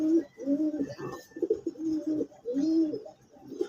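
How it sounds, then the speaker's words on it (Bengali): Pigeons coo close by in a rhythmic series of low, rolling calls, repeated about five times, with faint chirps in between. "এই যে দেখেন কবুতরগুলা"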